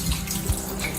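Tap water running at a sink while cleanser is rinsed off, a steady close rush of water with a slight splash partway through, brief and with no talking.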